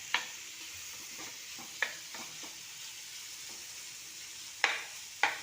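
A wild-vegetable bhaji being stirred and mixed in a pan over a steady soft sizzle, with a handful of sharp spoon scrapes and clinks scattered irregularly, two louder ones near the end.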